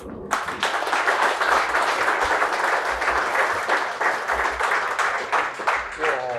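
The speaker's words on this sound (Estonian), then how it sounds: "ma paluks siia härra Kalle Kõre ja aplaus." Lively applause from an audience at a public show recording in a sports bar, steady clapping running throughout with voices calling and talking underneath.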